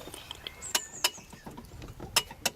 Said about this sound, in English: it's that clunking as when I move it backwards and forwards